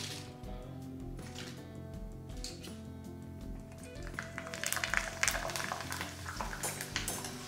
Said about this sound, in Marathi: आता आपण थोडे थोडेसे वेफर्स टाकून हे तळून घेऊया